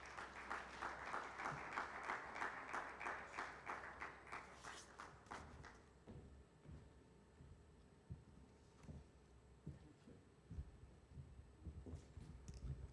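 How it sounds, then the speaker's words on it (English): Audience at a World Vision Uganda strategy launch applauding, a dense round of clapping for several seconds that fades to scattered claps and room hum. "Round of applause again to Chair."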